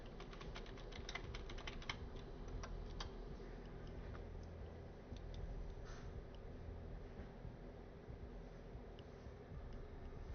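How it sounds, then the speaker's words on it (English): Keys clack on a Keychron K4 mechanical keyboard in quick bursts early on, then thin out to sparse scattered taps over a steady low room hum. "Keychron K4 mechanical keyboard."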